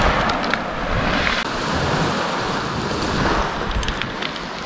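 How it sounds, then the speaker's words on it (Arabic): Surf washes steadily onto an empty, deserted beach, with heavy wind buffeting the microphone throughout and no voices. "الشاطئ خاوي ما فيه حتى شي واحد"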